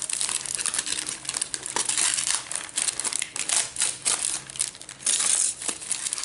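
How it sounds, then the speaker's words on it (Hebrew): Aluminium foil crinkling and crackling around a shawarma laffa, close and continuous with dense bursts of rustling throughout, no talk. "יש פה הרבה נייר כסף."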